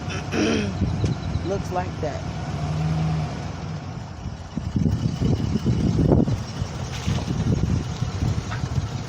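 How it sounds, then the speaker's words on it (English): A truck engine rumbles steadily as it backs up nearby, with wind noise and a person talking over it. "Excuse the truck noise, that's my husband backing out."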